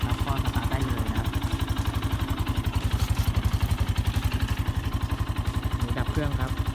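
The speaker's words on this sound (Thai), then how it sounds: "สตาร์ทรีโมทครับกุญแจไม่ต้องเสียบครับก็สตาร์ทได้เลยนะครับ" A Demon 150GR motorcycle, started by remote without a key, idles with a steady, rapid engine pulse up close, and faint background sounds drift in now and then.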